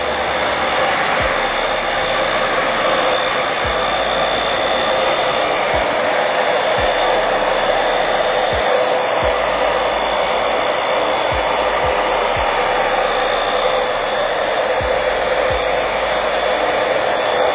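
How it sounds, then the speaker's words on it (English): A blow dryer roars continuously up close while drying hair through a vented brush, a loud steady rushing whoosh with a faint whine, broken by faint periodic low thumps as the brush moves. "Then I'll just run it through, follow with the blow dryer."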